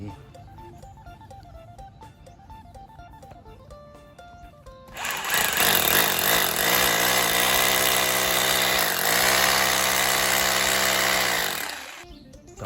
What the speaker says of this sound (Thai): ใช้ สว่านเจาะรู